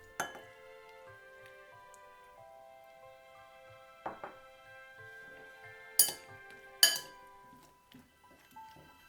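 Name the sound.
mixing bread pieces with milk in a bowl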